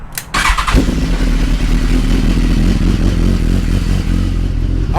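A 2016 BMW S1000RR sport bike on its stock exhaust cranks with a short starter whir, then catches and settles into a loud, steady, rumbling cold idle close by, with a slight mechanical clatter.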